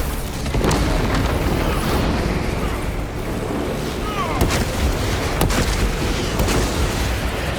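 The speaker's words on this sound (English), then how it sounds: "Seal the Xenos-infested chasms with a thermal weapon." A melter charge detonating to seal Xenos tunnels in Warhammer 40K: Space Marine 2, heavy rumbling booms with several sharp percussive cracks spaced out over the stretch, loud and near.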